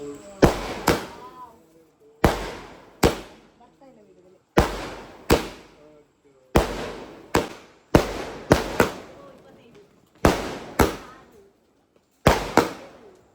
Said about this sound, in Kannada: ಒಂದು ಪಟಾಕಿ ಎಲ್ಲ ಹೊಡೆದಾಯ್ತು